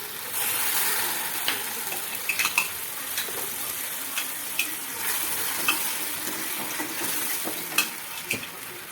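Manchurian gravy with added hot water bubbling and sizzling steadily in a pan, a dense close hiss with scattered pops and light scraping taps.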